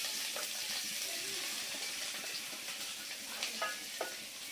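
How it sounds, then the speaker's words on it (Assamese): Dried fish sizzles in a pan, a steady soft hiss of frying with occasional faint stirring clicks, low and continuous with no talk. "মই শুকান মাছটো ভাজি আছো"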